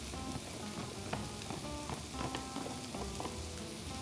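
Onions and celery sizzling steadily in a cast iron pan for a vegan ratatouille salsa, a quiet, continuous crackle with faint clicks of the vegetables being moved about.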